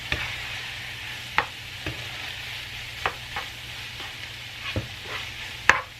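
Ground meat for a spaghetti sauce frying in a pan, a soft steady sizzle broken by several sharp scraping stir strokes spaced about a second apart, the last one loudest.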